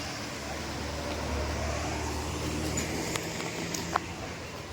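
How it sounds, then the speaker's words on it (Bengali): A bus pulling away at Sagarpara on a rainy morning: a low, steady engine rumble at moderate distance, with a few faint clicks and no talk. "বাসটা চলে গেল,"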